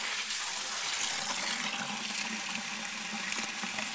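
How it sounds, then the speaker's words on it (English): Running water from a kitchen sink tap with a long hose fills a container halfway, a steady close rushing hiss throughout with no break. "So I'm going to fill this half full with tap water."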